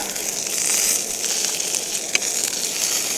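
Steady sizzling and crackling of sausages on a grill, a continuous hiss with a sharp pop partway through, no voices.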